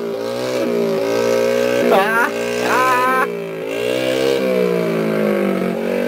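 A mini chopper motorbike ridden fast, its small engine humming and revving steadily up close, while people talk and exclaim excitedly over it.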